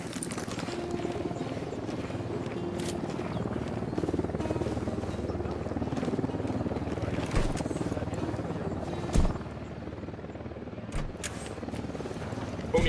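Helicopter in Ghost Recon: Wildlands, a steady mid-level rotor rumble running under ambient game noise, with a couple of brief thumps near the end.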